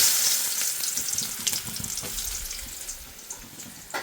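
Food frying in a pan, a hissing sizzle with scattered crackles and a few clanks, moderately loud at first and easing off, with no talking.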